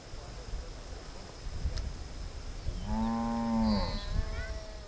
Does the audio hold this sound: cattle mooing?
yes